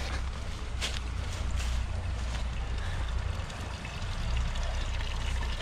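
Water gushing steadily from a roadside drinking fountain, a loud continuous splashing and rushing close by, with no speech over it.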